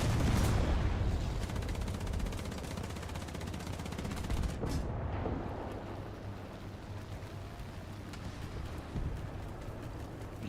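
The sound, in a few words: 30mm gun firing from a tank, video game War Thunder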